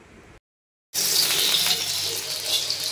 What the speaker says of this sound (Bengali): তেলটা গরম হয়ে গেছে, এবার দিয়ে দিচ্ছে পেঁয়াজ কুচি